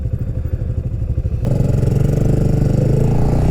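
Motorcycles, including a Fantic Caballero, ride a winding road in the Algarve, Portugal: a steady, close engine drone with rhythmic pulsing that rises to a stronger, fuller note partway through.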